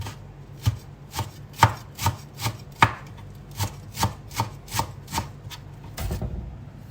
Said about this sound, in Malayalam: ഏതായാലും നമുക്ക് ഈ പാർസലി ചെറുതായിട്ട് കട്ട് ചെയ്തെടുക്കാം